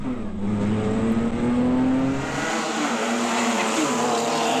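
Onboard with a BMW E30 race car at a reverse-grid race start at Hampton Downs, the engine revs up and climbs before the note breaks and drops, with a brief tyre squeal in a loud, close, busy field of cars and no speech.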